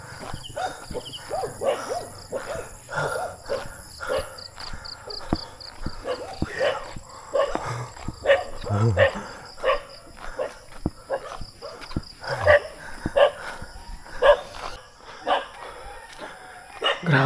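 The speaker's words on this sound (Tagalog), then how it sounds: "Ang daming aso dito" Several large dogs barking intermittently outdoors along a mountain road in Talumpok West, Batangas City, mixed with roosters and chickens, with someone talking over the scattered barks.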